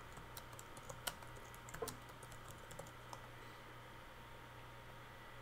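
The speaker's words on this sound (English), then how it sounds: "In the search box, type Theme Font Size Changer." Fingers typing on a computer keyboard, entering a search term for a Firefox add-on: a quiet, close run of light, irregular key clicks over a steady low hum, thinning out and then stopping.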